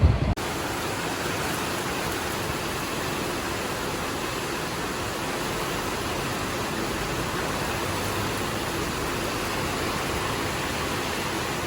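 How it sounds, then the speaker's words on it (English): Steady rain falling on a boat moored along the coast, a dense continuous hiss of even loudness from start to finish, with no voices. "And of course, we have the rain, the weather."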